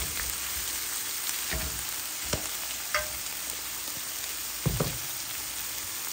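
Spicy pork belly sizzles steadily in a pan with gochujang chili paste, a constant close frying hiss broken by occasional spoon clinks and stirring scrapes.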